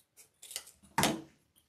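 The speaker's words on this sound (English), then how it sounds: "put my thumb about 1 inch from the end and cut from the folded up to the corner" Scissors cutting Halloween deco mesh on a cutting mat, a few close snips and rustles, the last cut loudest and longest, with no talking.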